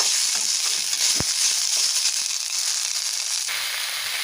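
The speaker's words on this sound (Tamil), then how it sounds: "நம்ம புளி சேர்த்து லைட்டாக ஒரு வதக்க வச்சு" Thuthuvalai leaves and tamarind sautéing in a pan, a steady close hiss of frying with a single sharp pop near the start, the sizzle thinning slightly toward the end.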